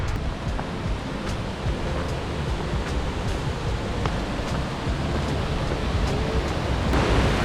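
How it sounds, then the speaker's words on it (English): Waterfall number 4 on the Four Waterfalls Walk in the Brecon Beacons, the lower fall of the White Meadow, gives a loud, unbroken rushing roar of falling water close by, steady throughout with no voices. "So this is waterfall number 4."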